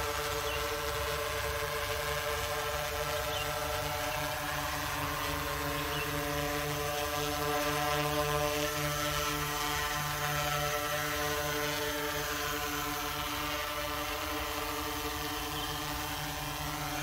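Propellers of a Pixhawk quadcopter drone descending toward its home point, a steady, continuous motor and propeller drone heard from a distance, holding even and unbroken throughout.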